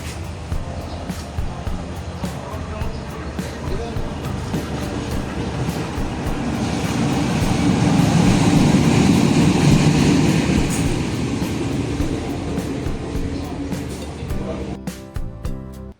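A train rumbles and rattles past nearby as it arrives at Kroya station, swelling louder in the middle with rhythmic clacking of wheels on rails, then easing off.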